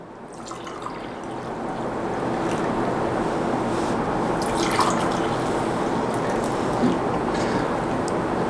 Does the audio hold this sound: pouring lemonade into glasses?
yes